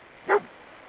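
A dog in the Fallout 4 video game gives a single short, sharp bark, close and clear against quiet background ambience.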